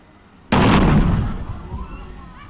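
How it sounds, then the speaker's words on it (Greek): A controlled underwater detonation of a wartime occupation-era artillery shell off a beach erupts as one sudden loud blast, then rumbles and fades over about two seconds. "προχώρησαν το πρωί σε ελεγχόμενη έκρηξη μέσα στο νερό"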